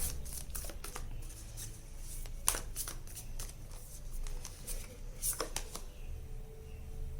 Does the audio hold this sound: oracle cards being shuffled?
yes